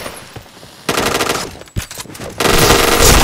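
Rapid automatic bursts from a T77 gun in a shooting video game, loud and close, with two long sustained volleys separated by a short pause and a sharp single crack.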